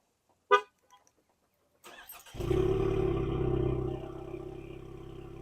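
2025 Ford Mustang EcoBoost starting up: a short horn-like chirp, a brief pause, then the engine catching and settling into a loud, steady idle that eases slightly toward the end, with no talk.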